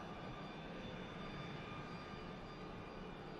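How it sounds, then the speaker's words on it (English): EasyJet airliner arriving at Manchester Airport, a steady distant engine roar and rushing wash held at an even level across the few seconds, without talk. "EasyJet arriving from Bilbao."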